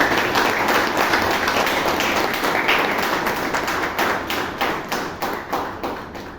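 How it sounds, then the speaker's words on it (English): Toastmasters meeting audience in Bangalore gives a loud round of applause, dense steady clapping throughout that thins into more distinct individual claps toward the end. "calls a massive round of applause for him"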